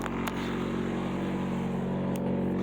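A 1995 Honda Prelude SE engine idles steadily after a cold start, a continuous low mechanical hum with even rhythm and faint ticking, heard close up without talk.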